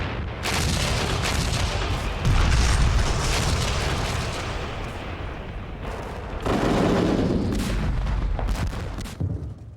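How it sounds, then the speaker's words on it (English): A Soviet artillery bombardment in World War II footage, heavy continuous booming and rumbling blasts in two loud swells, dense and sustained with no voices. "The evacuation was interrupted by a Soviet artillery bombardment."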